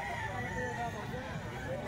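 A local banded Milsim Gray rooster crows amid steady, noisy background sound at a fowl sale.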